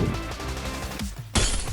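Gunfire in the mobile battle game Free Fire, as a rapid loud burst of shots with hard cracks and a sharp louder blast near the end, no talk over it.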